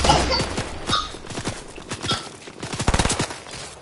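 Gunfire rattles through a video game battle: scattered single shots and quick bursts, some near and punchy, others more distant, irregular in rhythm with a dense volley toward the end, no speech.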